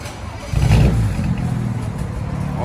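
A BMW 335i engine fires up with its muffler reinstalled, a low rumbling catch that swells into a steady, fairly subdued idle, heard close by and alone.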